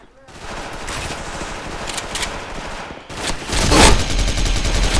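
Rapid automatic gunfire from a shooter video game, a guitar-styled Christmas neon gun, rattling in dense bursts with a louder explosive burst near the end, loud and close.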